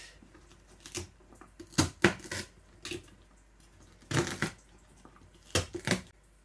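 Sharp chopping strokes of a knife slicing fresh okra on a cutting surface, coming in short bursts of two or three crisp cuts with pauses between, close and fairly loud, no talking.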